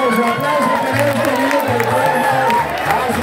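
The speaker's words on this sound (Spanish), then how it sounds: "Su aplauso" A crowd applauds and cheers at a charreada, a traditional Mexican rodeo held at a sortija event in Cuquío, Jalisco, with steady clapping and shouts that carry on throughout, with music and voices mixed in.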